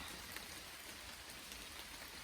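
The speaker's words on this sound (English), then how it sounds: "but I'm gonna wait out this rain for a while and see if it clears up" Steady rain falls on a wooded hiking trail in the Ozark Highlands, a soft, continuous hiss of drops heard from under a rock overhang, faint and even, with no voices.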